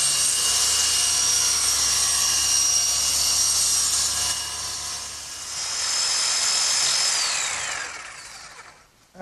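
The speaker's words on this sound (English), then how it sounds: "my electric jigsaw sure makes quick work of finishing up that slot" An electric jigsaw cuts a slot in wood on a workbench, a steady high-pitched motor whine with a buzzing edge that shifts slightly midway before cutting out abruptly at the end, close and with no speech.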